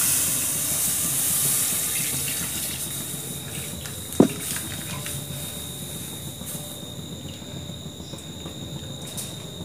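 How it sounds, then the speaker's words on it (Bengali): A litre of full-cream Amul milk pours into a pan for chhanar payesh, a steady watery stream with one brief knock partway through, all under a constant background hum. "আমি এখানে 1 লিটার দুধ দিচ্ছি, দেখো এটা ফুল ক্রিম দুধ আমুলের।"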